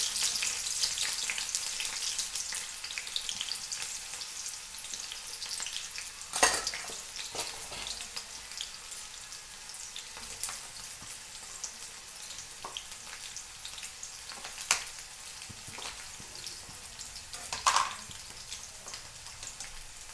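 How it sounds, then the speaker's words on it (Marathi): Chopped onions frying in oil in a pan as the base for an eggplant and pigeon pea curry, a soft steady sizzle with occasional louder crackles and stirring scrapes, no talk. "तर आपण आता तेल टाकलं आहे. सुरुवातीला कांदे टाकून घेते."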